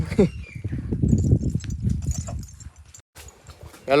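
Hooves clop in an uneven rhythm as a saddled mare is ridden along, mixed with rustling and handling noise close by, and a brief voice at the end.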